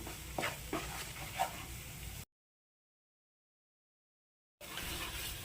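Green chillies stirred with masala powders in a pan for egg ghee roast masala, a soft scraping sizzle with a few clinks, cut off by a long gap of silence before the sizzling resumes.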